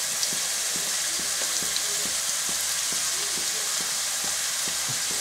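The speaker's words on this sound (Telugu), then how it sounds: "ఆ ఆనియన్స్ని కూడా బాగా వేసి ఇది కొంచెం వాటర్ కంటెంట్ ఉంటుంది కాబట్టి కొంచెం సేపు వేగనివ్వాలండి" Chopped onions fry in a hot pan for Andhra-style egg bhurji, a loud steady sizzle with a regular knock of stirring through it and no talking.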